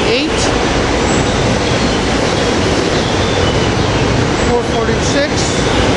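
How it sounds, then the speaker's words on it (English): Commuter train at 30th Street Station, railcar 288 leading a Warminster line run to the airport, fills the air with loud continuous rumble and wheel noise, brief higher squeals near the end. "at 30th Street with Railcar 288 leading our train"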